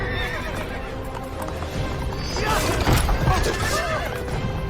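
Horse from an Assassin's Creed game trailer neighs loudly as hooves clip-clop, the whinny swelling near the end amid busy trailer sound, with a voice talking over part of it.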